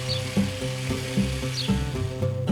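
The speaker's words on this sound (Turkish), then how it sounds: "bir su bardağı toz şekeri ilave edip çırpma işlemine devam ediyoruz" A whisk beats egg, salt and sugar in a bowl, producing a quick rhythmic rattling with regular sharper strikes about every few tenths of a second, close and steady throughout.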